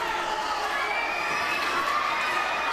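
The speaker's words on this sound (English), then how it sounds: "Listen to that crowd getting behind him" Loud, sustained roar of a wrestling arena crowd cheering and shouting in support of a wrestler, dense and continuous with high-pitched yells and whistles rising over the din.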